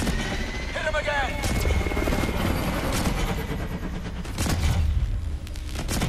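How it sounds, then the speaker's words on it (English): Helicopter rotor drone in a Call of Duty: Advanced Warfare battle, a continuous loud chopping roar mixed with gunfire and explosions while a voice talks over it. "Could have sworn I heard a helicopter."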